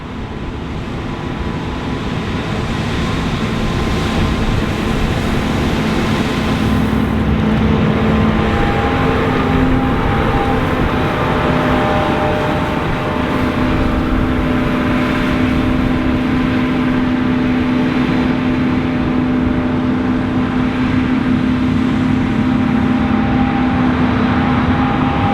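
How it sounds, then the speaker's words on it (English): A Shelbourne XRS36 stripper header on a combine harvester cuts barley in the field. The heavy machinery drone runs steadily and loudly the whole time, with a constant low rumble and faint tonal whine and no voices. "let's head out to the field so that you can see and hear all this harvesting action."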